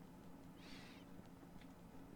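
A cat meows once, fairly clearly, over a steady low hum, followed by a couple of fainter chirps; the sound is quiet overall.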